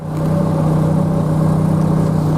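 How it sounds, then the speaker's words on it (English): A water truck's engine runs steadily while the tank fills for plowing horse arenas at a 4-H horse camp, giving a loud, continuous mid-pitched rumble with a strong hum throughout and no talking. "So I'm back in the water truck, filling it up. It's kind of loud"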